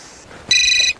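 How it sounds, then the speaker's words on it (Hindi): An electronic telephone ring, a single short burst of bright tonal trilling, loud and close. "मैं भी रोहन को फोन करती हूँ"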